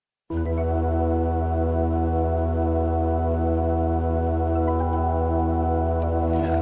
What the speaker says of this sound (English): This Roland synth is the actual instrument that the composer of the original soundtrack used